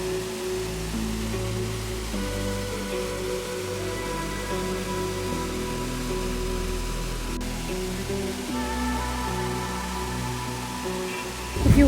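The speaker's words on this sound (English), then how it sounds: "Love the sound of the waterfall" Harvalem Waterfall in Goa gives a steady, even rush of falling water that holds at constant loudness throughout. Sustained tonal music plays over the water noise.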